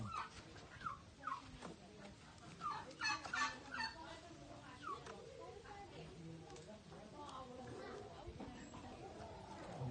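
Turkeys gobble in quick bursts amid other poultry chatter, while people talk nearby.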